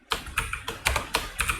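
Typing on a computer keyboard, heard as close, crisp clusters of keystrokes in about six quick bursts with brief pauses between, and no voices.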